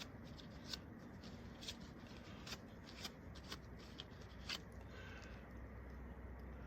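A dry paper towel rubs across a surface to wipe off lubricant residue, giving faint, dry scraping and rustling strokes that repeat roughly every half-second against a steady low background hiss.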